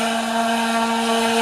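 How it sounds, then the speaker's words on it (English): A palm sander fitted with 40-grit paper runs over rotten boards on a backyard deck, giving a steady, close, unbroken motor whine with a strong buzzing tone. "Here's Jane doing her thing with a palm sander."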